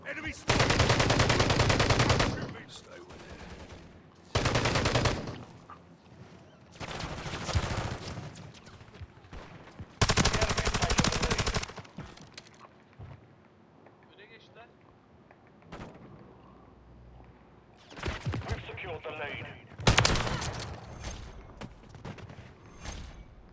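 Loud bursts of automatic gunfire and explosions in Call of Duty, several long heavy volleys separated by quieter stretches, with excited talk in between.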